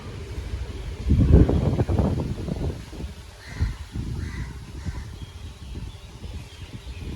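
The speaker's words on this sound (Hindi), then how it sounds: "भाई बहुत तेज़ हवा है" Early-morning gusty wind roars in broad bursts before rain, strongest early on, with a steady rushing background and a few faint bird calls.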